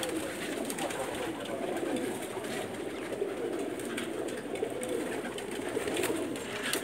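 A flock of fancy pigeons coos steadily in a loft, soft overlapping calls forming a continuous murmur with a light background hum and no talking.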